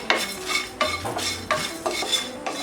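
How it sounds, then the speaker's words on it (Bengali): Dry red chilies and cumin seeds being stirred in a pan for hog plum pickle, with repeated close metallic scraping strokes of a spoon against the pan at an even rhythm and little sizzle. "এখন এগুলোকে আমি ভেজে নেব"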